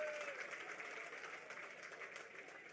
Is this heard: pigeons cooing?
no